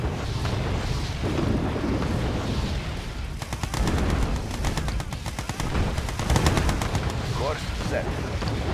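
Naval warship guns firing in a modded real-time strategy game, a dense barrage of booming shots and rapid bursts rolling over a continuous loud rumble of battle.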